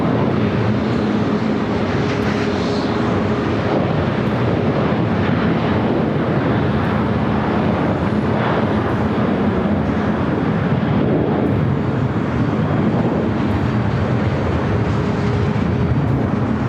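Jet aircraft arriving at LAX, including an SAS plane and an Airbus A380, produce a loud, continuous broadband engine roar that holds steady throughout with no talk over it.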